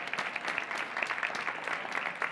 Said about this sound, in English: one more round of applause for our courageous students